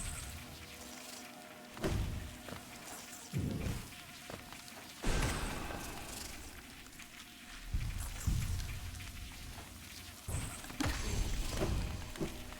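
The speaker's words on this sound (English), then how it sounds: "Bees." Buzzing bees in the Hive area of the Hollow Knight video game, a faint insect drone punctuated by soft thumps and scattered ambient hits, with no talk.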